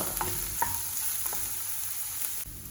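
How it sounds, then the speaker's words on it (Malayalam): Onion and green chillies sautéing in oil with popped mustard seeds, a steady close sizzle broken by a few light spatula stirs and scrapes against the pan. "ഒരു മീഡിയം സവോള ഇടുക. 4 പച്ചമുളക് ഇടുക. അതിനുശേഷം നന്നായി ഒന്ന് വഴറ്റുക."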